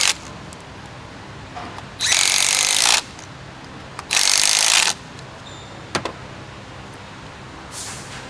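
Power tool driving bolts on the N80 valve of a 2021 Tiguan engine during a cylinder head install. Two loud, close bursts of about a second each stand over a quiet workshop background, with a few small clicks between them.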